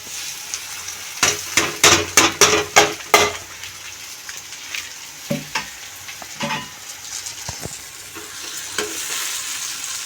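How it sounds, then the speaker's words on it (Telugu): Onions and potatoes frying in hot oil for cauliflower curry, loud close sizzling broken by a quick run of rhythmic scraping strokes from stirring, then softer intermittent clatter. "ఇప్పుడు బంగాళదుంపలు కోయాలి బంగాళదుంపలు రెండు వేసుకున్నాను ఇప్పుడు ఆలు వేసుకుంటాము"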